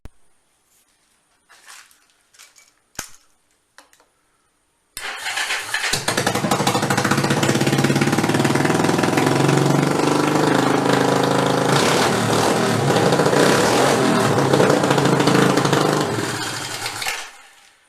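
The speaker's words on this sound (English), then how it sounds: "now I'm going to close it up and start it up and show you guys how it runs" A Yamaha SR250 motorcycle, just reassembled after repair, fires up after a few quiet clicks and knocks, then runs loudly and steadily with a slightly high idle, a close continuous engine rumble before it cuts off.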